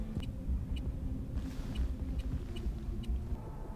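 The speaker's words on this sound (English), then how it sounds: "I feel like this is the one game this city noise might add to the experience" A low city-traffic ambience rumbles faintly beneath a PS5 game menu, with a soft, steady road drone and occasional light ticks.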